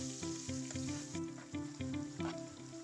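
Chopped onions fry and sizzle in a pan for a Bengali-style boal fish curry, a quiet steady hiss under music with a repeating beat.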